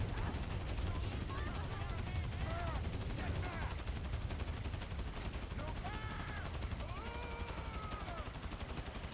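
Long automatic gunfire bursts in a video game as one extended magazine empties. The shots run as a steady, dense rattle under game sounds and tonal effects, and it stays at an even level for the whole stretch.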